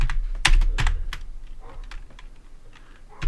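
Clicky bursts of typing on a computer keyboard while entering loopback settings in a VyOS command line, a few quick keystrokes close up with short gaps between them, no talking.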